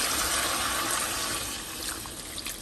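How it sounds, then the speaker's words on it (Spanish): Water gushes steadily into a hot pan holding frying guajillo chiles, a close, continuous pouring rush. "Le voy a agregar un poco de agua."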